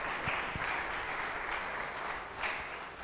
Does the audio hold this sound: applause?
yes